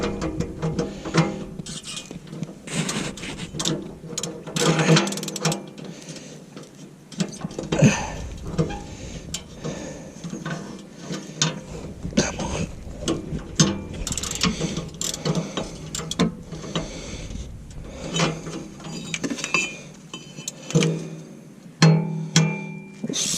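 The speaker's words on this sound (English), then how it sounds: "you can continue to ratchet the sensor out" A ratchet wrench clicks steadily while backing out a still-warm O2 sensor from a car exhaust, close-up rapid pawl clicking in bursts with pauses, no talk.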